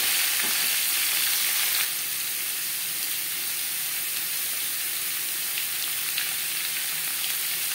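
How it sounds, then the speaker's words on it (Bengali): Papaya is stirred with tempering spices in a hot pan and gives a loud, dense frying sizzle. It is strongest in the first two seconds and then settles into a steady hiss, with no talking. "ফোড়নের সাথে পেঁপে বেশ ভালো করে মিক্স করে দেবো।"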